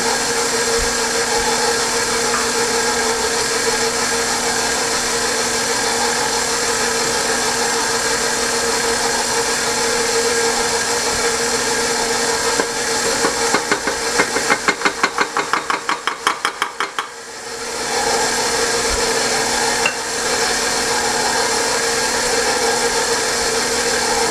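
Stand mixer running steadily at low speed, combining butter, milk, sugar and flour into dough for copycat Texas Roadhouse rolls, a continuous motor whine with a brief rhythmic pulsing stretch near the middle.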